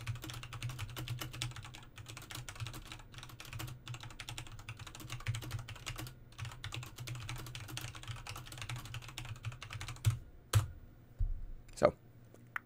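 A computer keyboard is typed on rapidly during a typing test, a dense run of soft clicks and key taps heard from a microphone setup, ending with a few louder isolated key strikes.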